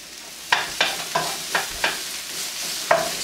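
Vegetables and vegan pad thai ingredients being stir-fried in a pan, a steady sizzle broken by regular scraping tosses of a spatula, about six strokes close by.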